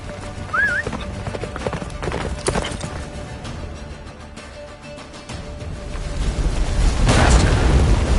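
Roach, the horse in The Witcher 3, gallops with steady hoofbeats under a swelling game score, rushing ahead of a blizzard, with a loud rumbling surge building toward the end.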